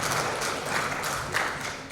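Applause from an audience at a church mission gathering, a steady soft wash of many hands clapping, moderately distant and sustained throughout.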